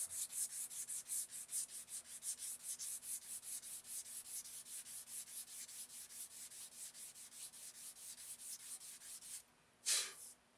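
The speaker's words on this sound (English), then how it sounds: "A little bit more sanding." Rhythmic back-and-forth rasping of sandpaper on the wooden stock of a Winchester Model 71 rifle, steady strokes about four per second, close and even, ending with a single louder rub.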